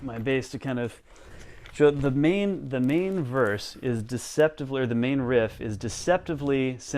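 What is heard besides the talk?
No distinct noise like a dog, phone or traffic.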